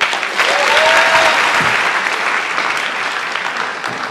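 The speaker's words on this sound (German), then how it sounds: "Und einen riesen Applaus für den Quiz." A poetry slam audience in Linz breaks into loud, sustained applause that fills the room evenly, with a brief vocal whoop near the start and no talk over it.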